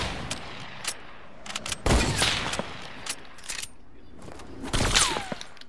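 Gunfire from no-scope shots in a first-person shooter game, two sharp loud bursts with a few lighter pops scattered between them.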